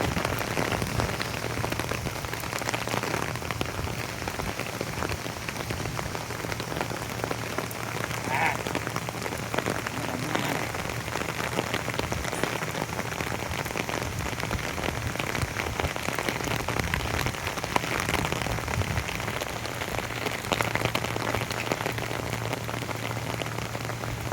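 Steady rain falls outdoors in a village during a dumbbell workout, a dense, even patter on surfaces that fills the whole stretch at moderate level, with only faint hints of voice.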